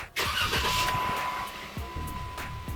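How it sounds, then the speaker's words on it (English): A car engine cranks and catches with a sharp burst, then settles into a steady running hum, close and fairly loud. A thin whine holds beneath it. "plug in your device and start your car."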